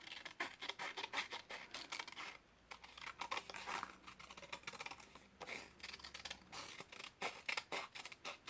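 Scissors snip paper in quick, close repeated cuts while a paper craft bear is cut out, with soft crinkling and rustling of the sheet between bursts of cutting.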